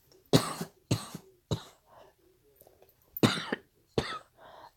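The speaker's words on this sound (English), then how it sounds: "Please excuse my coughing" Several harsh coughs come in short bursts close by, with softer throat sounds between them.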